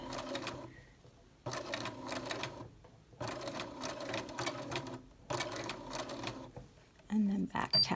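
A sewing machine stitches a skirt seam in bursts of rapid mechanical whirring, separated by short pauses, close and clear, with a quiet voice in the gaps.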